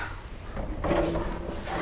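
A drawer in the kitchen of a new 2017 Cedar Creek Champagne 38ERK RV slides open and shut, a brief close wooden rumble and knock with no talk over it.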